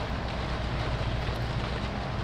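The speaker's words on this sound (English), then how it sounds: "is the tractor too loud?" A tractor engine runs nearby with a constant, loud, low droning rumble that holds steady throughout, with no talking.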